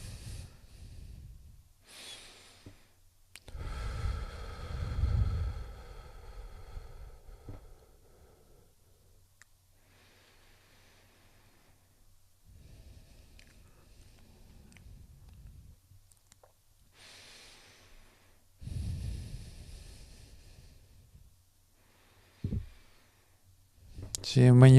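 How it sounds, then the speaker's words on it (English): Deep breaths drawn in through the nose during a guided healing breathing exercise, several slow inhales and exhales spaced across the passage, close and fairly loud with quiet gaps between them. "breathing in through your nose."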